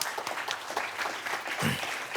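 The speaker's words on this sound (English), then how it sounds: "applause." Audience applause at a panel discussion on Afro-European relations, a steady wash of clapping across the whole stretch with a brief low thump near the end and no voices on top.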